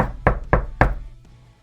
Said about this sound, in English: I knocked on the brick house.